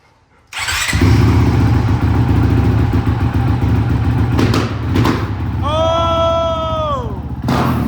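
Honda CRF450X dirt bike with a newly installed FMF exhaust firing up and revving loudly nearby, a sharp start followed by a throaty sustained rumble with blips, and an excited voice shouting over it.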